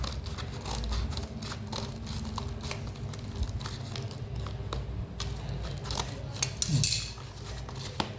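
Packaging of a tablet storage box being cut open, with soft crinkling, snipping and rustling at close range, steady and low, and a brief louder crackle near the end.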